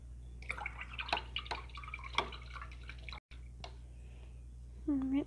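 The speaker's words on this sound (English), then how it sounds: "And rinse it off." Paintbrush rinsed in a water container during an acrylic painting session, giving soft drips and sloshing splashes beside the brush, with a low steady hum beneath and a brief gurgle near the end.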